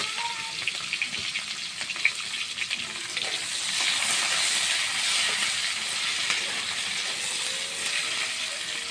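Chopped onion frying lightly in a pan for an aloo loti dish, a steady soft sizzle with occasional stirring scrapes, close and even throughout with no talking.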